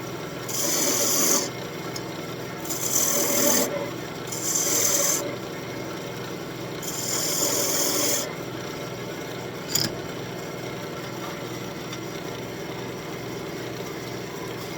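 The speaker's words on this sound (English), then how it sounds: "Let's sand it a bit." A wooden spoon spinning on a wood lathe is sanded with 320-grit paper in four rasping bursts of a second or two each, separated by quieter lathe hum, with a faint tap near the end.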